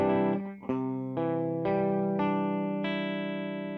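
An electric guitar strums a chord, then picks its strings one after another, each note ringing out and sustaining with a processed, slightly effected tone.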